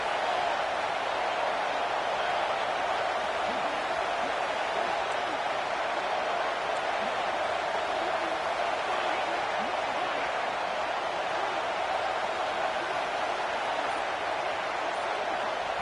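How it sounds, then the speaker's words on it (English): College football fans at a UCLA versus Penn State game roar steadily in a packed stadium on first and goal, a dense, unbroken wash of distant crowd noise that holds at one level throughout. "Fans are bringing the noise on first and goal."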